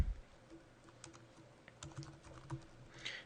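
A password is typed on a computer keyboard, a quiet, irregular run of soft key clicks close by with no talk.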